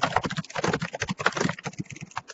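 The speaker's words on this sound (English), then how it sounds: "Somebody is typing." Rapid keyboard typing caught by an open microphone during an online lecture, a dense run of clattering keystrokes in a steady stream throughout.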